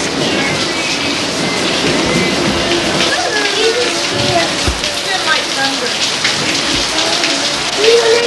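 Heavy rain pours steadily in a loud, close wash of drops, with low rumbles of thunder beneath it and children's voices talking over the downpour.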